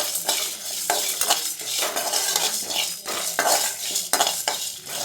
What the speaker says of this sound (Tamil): இப்போ இது நல்லா வாசனை வர அளவுக்கு வறுத்துக்கலாம்.